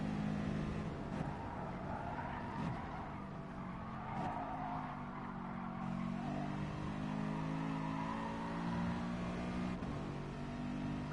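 A BMW race car engine in Gran Turismo Sport drones steadily and loudly throughout, its pitch rising and falling with shifts and corners, with no talking.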